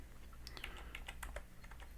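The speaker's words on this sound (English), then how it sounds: "I'm going to use the keyboard" Soft, quick clicks of a computer keyboard being typed on while playing Sudoku, close and quiet with an irregular rhythm and no talking.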